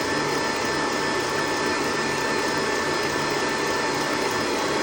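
An electric mixer whips protein custard cream until it turns thick and firm, giving a steady, loud whirring drone that holds without a break and carries no voices.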